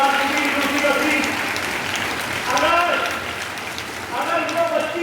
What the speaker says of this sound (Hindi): बजाएंगे उस बच्ची के लिए तालियां।